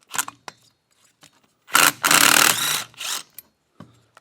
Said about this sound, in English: we have to pull the flywheel off, which is fairly simple